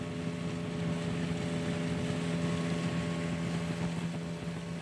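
An outboard motor drives a pirogue on the Maroni river in French Guiana, a steady, loud, continuous drone with wind and water noise mixed in and no break.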